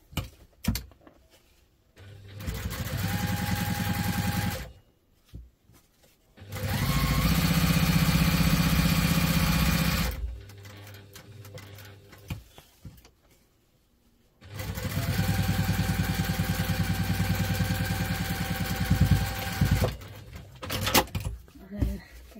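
A sewing machine bastes a double compartment crossbody bag, buzzing in three sustained runs with quiet gaps and handling noises between them, close up.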